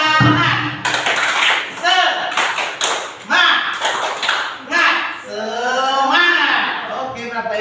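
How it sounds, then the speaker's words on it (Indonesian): A group of adults at a workshop session claps out the rhythmic Indonesian 'tepuk semangat' spirit clap, with sharp clustered clap bursts in a patterned beat and voices chanting along throughout. "Ice breaking dulu, tepuk semangat Bapak Ibu."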